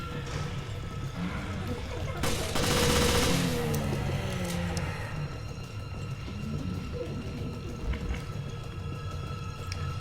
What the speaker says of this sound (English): Probably use this gun, get a little bit of damage in.